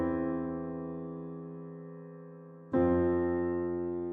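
Two single piano notes played by the right hand, bottom notes of chords: the first decays slowly for almost three seconds, then a second note is struck and rings on, clear and alone with no talking.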